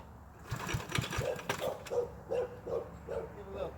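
A 1974 8hp Briggs engine on a Big Hoss ride-on tractor putters at idle, with a steady rhythmic chug and periodic louder pulses. It is close and moderately loud, and there is no talk over it.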